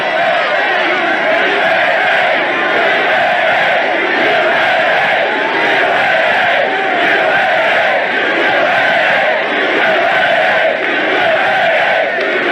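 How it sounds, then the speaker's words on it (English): A large crowd at a political rally in Pennsylvania cheers and shouts steadily, a dense continuous roar of many voices with no pauses, loud and close. "Here's a big crowd."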